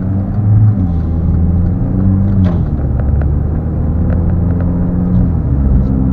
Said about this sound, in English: It's got a nice exhaust now. That sounds nice.